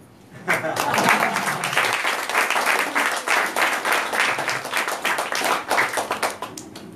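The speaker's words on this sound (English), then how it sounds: "give yourself a round of applause" An audience gives a sustained round of applause at a talk in India, dense clapping from many hands rising quickly and holding steady for several seconds.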